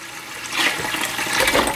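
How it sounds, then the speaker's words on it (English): Water pours from a measuring vessel into a pot of sugar and KARO syrup for candied figs, a close, rushing splash that swells briefly and keeps flowing. "So I have my water measured out, and I'm going to pour a portion of it in."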